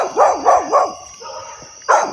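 Dogs bark from behind a fence, a quick run of three loud barks, a short pause, then another bark, fairly close by.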